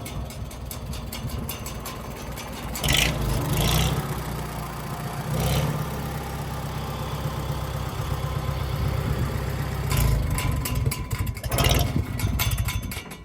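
A long-abandoned 1957 Farmall tractor engine runs close by with a steady, loud chugging idle, surging briefly in a few bursts of revving.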